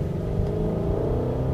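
A Ford Mustang engine revs during a manual downshift, a steady, close, low rumble and drone with no voices over it.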